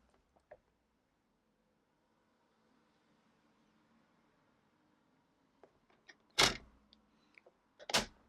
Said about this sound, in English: use your trimmer to score it